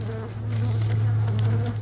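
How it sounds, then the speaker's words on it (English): Honeybees buzz steadily at a hive during winter feeding, a dense, continuous low drone close by with no speech over it. "the bees are definitely not going to be happy"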